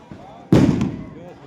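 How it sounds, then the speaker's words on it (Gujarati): A sharp firecracker bang bursts out and rumbles briefly before fading, with a voice faintly present before it, at a traditional village cow festival in Vadgam, Gujarat. "ફટાકડા બટાકડા ઉભી 8 ફટાકડા ફોડેલા છે"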